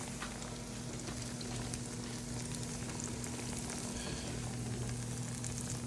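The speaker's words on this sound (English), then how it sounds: "I have my plantain frying." Steady, close sizzling and crackling of plantain frying in hot oil in a pan, continuous with a low hum underneath.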